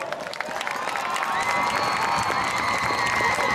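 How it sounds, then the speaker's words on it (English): An audience at a battle of the bands awards ceremony applauds and cheers for band directors and music teachers, a loud, sustained roar of clapping mixed with crowd cheers and a few high shouts. "Let's give them a big round of applause."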